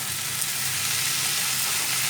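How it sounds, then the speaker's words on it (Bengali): Fried pointed gourd added to spices in hot oil, producing a continuous, even, close sizzle with no pauses. "এবার ভেজে রাখা পটলটা এর মধ্যে অ্যাড করে দিলাম।"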